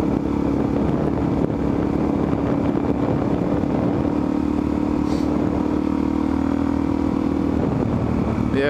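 A supermoto motorcycle engine drones steadily and loudly while riding on a paved road, with continuous wind and engine noise throughout.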